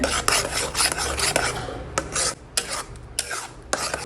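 Tomato paste stirred and sautéed in a pan for a Bengali mustard hilsa fish curry, a steady close scraping and rasping of a spatula across the pan with sizzling underneath, in repeated strokes and without talk.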